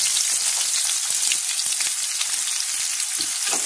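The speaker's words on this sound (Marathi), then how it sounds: "आणि कांदा चांगलं परतून घ्यायचा." Onion sautéing in hot oil in a pan for poha, a loud, dense, steady crackling sizzle heard up close with no talking.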